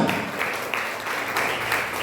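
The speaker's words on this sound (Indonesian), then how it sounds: "Tepuk tangan." A church congregation at a revival service claps together, a soft, fairly faint patter of many hands that pulses slightly in waves with no talking over it.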